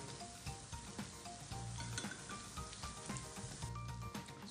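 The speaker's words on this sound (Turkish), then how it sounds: "Şimdi üzerine bir tatlı kaşığı biber salçası ekliyorum ve tekrar salçanın kokusu çıkana kadar kavuruyorum" Onions with pepper paste frying in a pan give a steady, quiet, close sizzle, with scattered crackles and occasional stirring scrapes, no voices.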